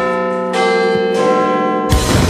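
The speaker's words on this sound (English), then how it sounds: "The bell's ringing." A loud, clear bell rings with sustained metallic tones, struck again about halfway through and once more near the end, each strike overlapping the ringing decay of the last.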